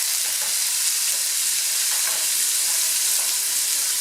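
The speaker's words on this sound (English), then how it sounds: "Now we're going to want to saute these until they're kind of translucent." Vegetables sautéing in oil in a soup pot alongside leftover sausage fat, a constant, loud, bright sizzle and crackle that holds steady throughout with no voices.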